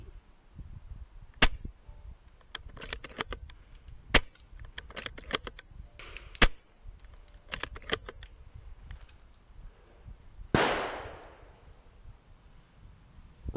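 An airsoft gun fires at targets in a sequence of sharp, close cracks and snaps, irregularly spaced, some in quick clusters, followed by a louder impact with a brief ringing tail near the end.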